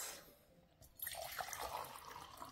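Water is poured into a drinking glass at home, a quiet close trickle and gurgle that picks up after a short pause and carries on steadily.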